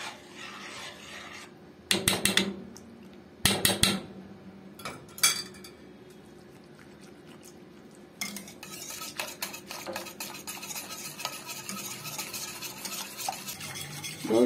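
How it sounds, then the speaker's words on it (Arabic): Spoon stirring and scraping a cornstarch mixture in a pot to make muhallabia pudding, with a few sharp scrapes early on and then continuous rapid rasping strokes against the metal. "انزل بيها واقلب بقى تقليب مستمر على ما النشا تستوي معايا"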